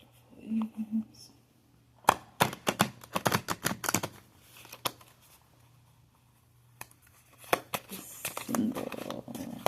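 A deck of oracle cards being shuffled by hand, a run of crisp rapid card riffles and slaps in bursts, close and clear, with soft murmuring between.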